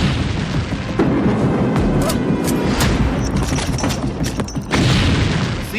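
A missile strike unleashes a heavy, rumbling blast with sharp cracks layered over it, loud and sustained throughout, and a second surge hits near the end; a voice is faintly audible beneath.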